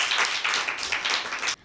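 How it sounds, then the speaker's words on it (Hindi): Short burst of children's audience clapping during a Christmas special quiz show, brisk uneven claps for under two seconds that stop abruptly. "अविशा के लिए भरपूर तालियां बजाएं।"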